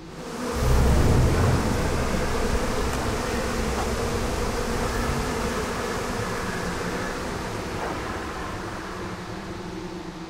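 A swarm of bees buzzing in the video game Psychonauts 2, a loud, dense, steady drone that swells at the start and then holds level throughout, with no voices.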